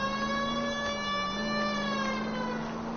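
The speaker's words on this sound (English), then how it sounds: "that fucking siren is annoying, dude." Police car siren in the video game L.A. Noire, a steady wailing tone with stacked harmonics sounding continuously and loud for the whole stretch, close and unbroken, with no talking over it.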